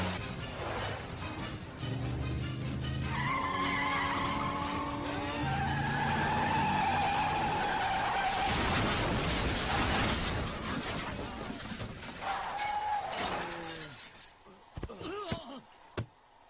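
Car speeding head-on, loud engine, then a long skid with screeching tires and a crash with shattering impact, followed by scattered debris noises fading out; talk briefly overlaps.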